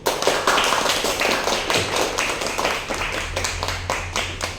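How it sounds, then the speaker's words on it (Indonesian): A small classroom group claps for the first team after its presentation during a teaching-practice lesson, producing a steady flurry of close, overlapping hand claps that lasts several seconds. "Marilah kita berikan aplaus untuk kelompok 1."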